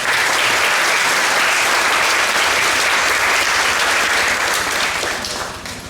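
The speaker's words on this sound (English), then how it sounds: "Give them a round of applause if you would." Audience at a school moving-up ceremony gives a dense, loud round of applause that holds steady for several seconds before tapering off at the end.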